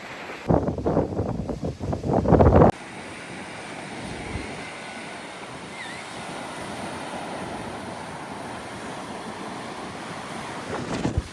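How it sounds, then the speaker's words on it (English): Strong coastal wind buffets the microphone at Boulders Beach, Cape Town, with steady surf-like roar throughout; a heavy gust dominates the first few seconds before settling into a constant, broad rushing noise. "I don't even know if you're going to be able to hear my voice over this wind"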